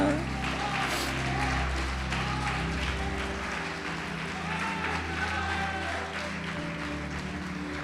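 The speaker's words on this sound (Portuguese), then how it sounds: "Pode aplaudir e glorificar." A church congregation applauding, a dense sustained wash of clapping from many hands filling the room, with voices in the crowd mixed in throughout.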